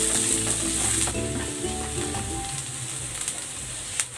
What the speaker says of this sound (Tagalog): Gisa na rin natin tong sibuyas.